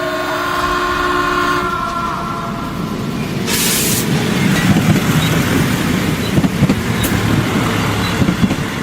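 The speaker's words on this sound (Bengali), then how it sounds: "ঠিক তখনই দূর থেকে কানে এলো ট্রেনের হর্ন।" A mail train approaching in a Bengali audio drama scene: a steady rumble of wheels on the rails builds and holds loud throughout, with a bright burst of horn near the middle and a shorter blast just after.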